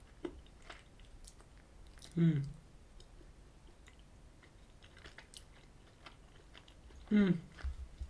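Two distinct bouts of close, crunchy chewing of a peanut butter candy square with chopped peanuts, several seconds apart, separated by quiet room tone.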